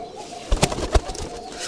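A Rajshahi Giribaz high-flying pigeon held in the hand gives a few short, close, soft coos in quick succession over faint background noise.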